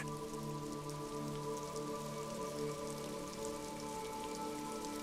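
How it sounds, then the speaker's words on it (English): Video game rain patters and drips off Eternite-covered roofs on an urban coastline over a low ambient hum, continuous and even throughout, with scattered droplets ticking against hard surfaces. "rain dripping off Eternite-covered roofs"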